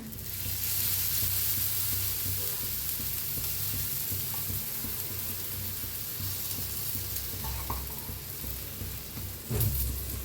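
Spinach thalipeeth frying in oil on a pan, a dense, steady close-up sizzle throughout with a few faint scrapes and a brief clatter near the end.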